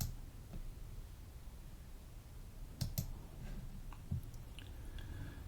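A few soft computer mouse clicks, isolated and spaced apart over faint room noise, close but quiet.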